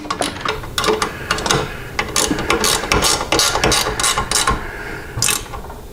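A ratchet clicks in quick, irregular bursts as bolts are driven back in to reinstall a motorcycle rear fender. The sharp metallic pawl ticks come up close with brief pauses between strokes, and no one speaks.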